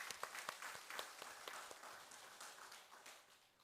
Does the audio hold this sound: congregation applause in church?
yes